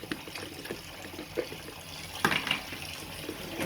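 Water running from a household tap, a soft continuous splashing flow with a few small clinks of cups or dishes nearby, fairly quiet and steady.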